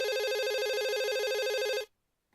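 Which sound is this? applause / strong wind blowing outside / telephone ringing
telephone ringing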